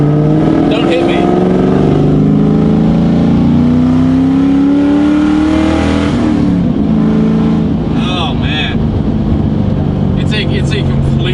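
A car engine revs hard at wide open throttle on a road, with a loud, rising drone that climbs in pitch over several seconds, then drops. Voices talk over the engine throughout.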